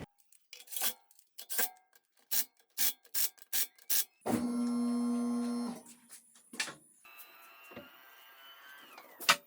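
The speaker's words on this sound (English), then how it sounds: "Now I'm torquing them to 120 foot-pounds." Lug bolts on an Audi Q7 wheel being tightened with a ratcheting wrench, a run of about a dozen sharp close clicks followed by a sustained whirring burst and a final tonal mechanical whine.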